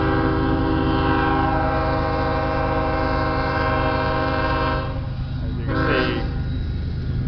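A train passes on a nearby railroad track beside a factory garden, its horn blaring in a long sustained multi-tone blast over heavy rumble, then a short second blast.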